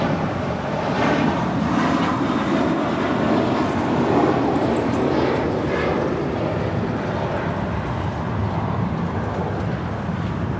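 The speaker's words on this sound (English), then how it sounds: "It's meant to be departing to JFK with JetBlue Airways flight 524 on an A321." JetBlue Airways Airbus A321 departing from Los Angeles International Airport, a broad distant jet engine roar that holds steady at moderate loudness throughout.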